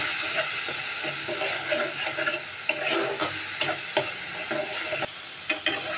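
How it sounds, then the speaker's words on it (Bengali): Spices stir-fried with salt and turmeric for a tilapia fish-head curry with mustard and tomato, a continuous crackling sizzle broken by rhythmic scraping stirs, close and moderately loud. "এবার সবগুলো একসঙ্গে খুব ভালোভাবে কষিয়ে নেব।"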